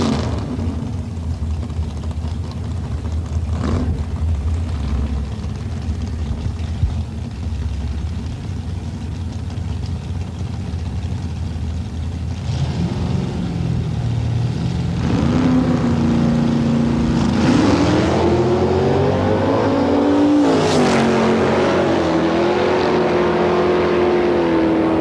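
A modified drag race car engine at the staging line of a 1992 pro mods event, a steady loud rumble that rises into revving with climbing pitch toward the end, no voices.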